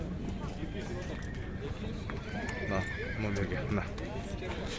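A horse whinnies at an outdoor horse market in Chuy, Sokuluk, with a rising neigh standing out amid dense crowd chatter, hoof clip-clop and general market bustle; people talk throughout.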